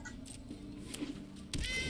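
A cat creature in the video game Magic Arena lets out a clear, high meow sound effect, with a short second cry near the end, loud and alone.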